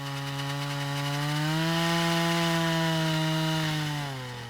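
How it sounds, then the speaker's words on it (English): A water-cooled drill bores into rock, giving a sustained, buzzing mechanical whine that swells and rises slightly in pitch midway, then eases and drops near the end. "they bore into the rock with a water-cooled drill"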